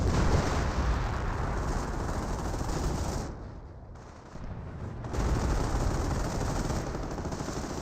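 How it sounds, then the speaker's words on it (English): A Hummel artillery barrage pounds away in Company of Heroes: dense, loud, continuous rumbling blasts and gunfire, with a short dip in intensity in the middle before the barrage resumes. "we do have another Hummel Barrage to somewhere"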